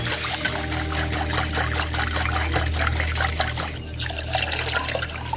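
Vanilla unsweetened almond milk pours in a continuous trickle into a pan for turkey gravy, close and steady over a low background hum.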